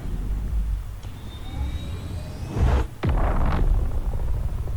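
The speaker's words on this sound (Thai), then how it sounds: "จุดระเบิดเครื่องยนต์" The L-21 Wolf spacecraft in Star Citizen starts its engines with a rising whine, a sharp ignition burst, then a steady deep rumble and roar that carries on to the end.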